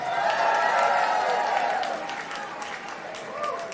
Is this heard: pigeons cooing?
no